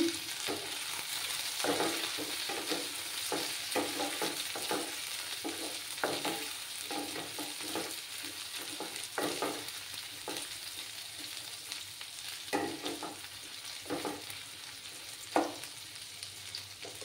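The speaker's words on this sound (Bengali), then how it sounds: "একটু সময় ফ্রাই হতে দেবো।" Onions and tomato fry in oil in a pan, giving a continuous soft sizzle with repeated scraping stir strokes at an irregular rhythm, quiet and close with no talking.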